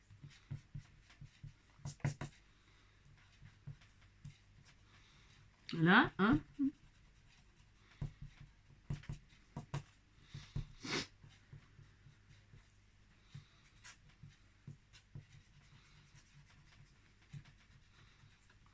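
An eraser rubs pencil marks off a paper card in soft, scratchy bursts that come and go, close and quiet, with a brief spoken remark partway through.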